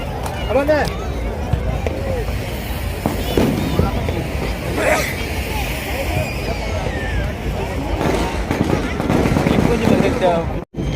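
Firecrackers and fireworks pop and crackle continuously from many directions at a New Year celebration on Colva Beach, Goa, loud and dense, with crowd noise mixed underneath.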